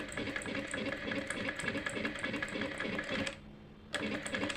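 A tailoring sewing machine stitches through paper during practice, a steady rapid mechanical rattle with rhythmic needle clicks, pausing briefly near the end before starting again.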